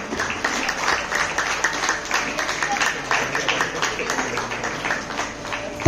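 A hall audience at a Margazhi festival cultural program applauds in a steady, dense wash of clapping that holds evenly throughout, with no talk.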